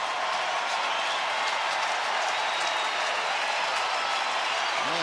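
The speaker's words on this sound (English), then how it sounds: "And this loud crowd getting with it." A loud baseball stadium crowd at a Tampa Bay at Texas game in 2012, a broad continuous roar of cheering and clapping that holds steady and dense for the whole stretch, distant and enveloping.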